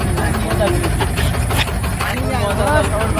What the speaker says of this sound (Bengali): এই যে দেখেন স্পিড বোট